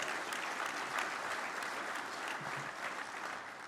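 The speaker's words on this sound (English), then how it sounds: "Good, give yourself a hand." An audience applauds for a labor union speaker, a dense, steady wash of clapping that continues evenly throughout with faint crowd murmur.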